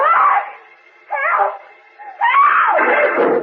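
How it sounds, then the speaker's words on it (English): A woman's faint, distant, high, wailing screams for help come in three bursts with pauses between, the last one longer and sliding down in pitch. "Suddenly he hears Lois's faint, far-off scream for help."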